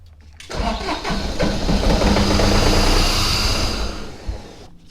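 The engine of a run-over air compressor cranks and catches, running roughly with a loud, rumbling chug for a few seconds before cutting out.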